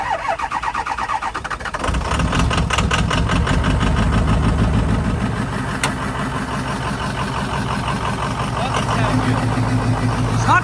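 A car engine, not running well, turns over and catches, then settles into a loud, steady idle close by, with a rough rumbling tone and no speech over it.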